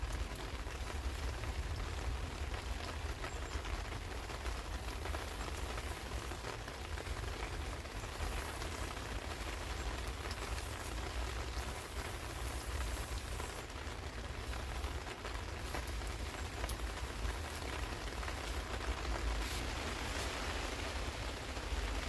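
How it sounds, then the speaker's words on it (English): Rain hisses steadily and evenly on an allotment garden in the UK for the whole stretch, a soft continuous wash with no pauses. "as you can hear with that rain"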